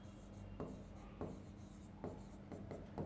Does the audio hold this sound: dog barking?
no